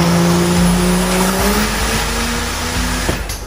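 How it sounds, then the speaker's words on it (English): Car engine revving hard with tires squealing, caught on a CCTV camera; a loud sustained engine drone with rising pitch and screeching tire noise across the whole stretch, with no voices. "You should not test the engine in this crazy way."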